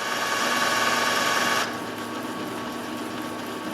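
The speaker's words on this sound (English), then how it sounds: "So it's printing." An Epson ET-3760 inkjet printer runs a print job with a steady mechanical whir and hum, which drops abruptly to a quieter background drone partway through.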